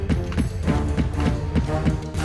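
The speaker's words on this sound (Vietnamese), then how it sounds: "Đây chính là âm thanh thịt thịt ầm ầm mà người khác nghe thấy khi Kinh sẵn sàng chiến đấu" King's heartbeat-like engine thumping from the One Punch Man anime: steady, rhythmic deep thuds repeating about every quarter second, loud and close with no talk over them.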